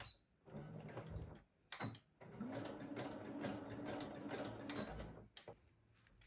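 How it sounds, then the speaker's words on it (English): A sewing machine runs a slow basting stitch around a pinned dress sleeve, a steady mechanical whir with brief pauses and restarts, close and clear. "we'll just sew it round with a basting stitch just to keep it in place until we add the lining"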